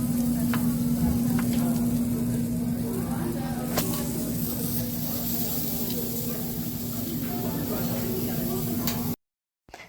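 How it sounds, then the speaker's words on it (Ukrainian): Steady sizzling of kebab meat frying well done on a hot surface, loud and close, with a constant hum underneath and occasional faint clicks, cutting off just before the end. "Тут у нас прожарка well done, тому що я таку люблю."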